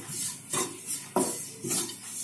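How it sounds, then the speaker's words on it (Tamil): Grated coconut roasting in a pan for a Kerala-style coconut roast chicken curry, stirred with a utensil that gives repeated scraping and clinking strokes in a steady rhythm, close and fairly loud with no talking. "நல்லா கலர் வரணும் அளவுக்கு வறுத்துக்கோங்க."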